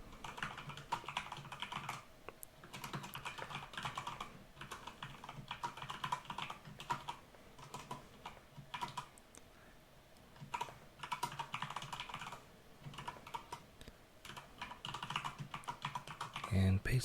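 Steady computer keyboard typing while writing code, soft irregular key clicks running continuously at close range with occasional pauses and a few louder taps near the end.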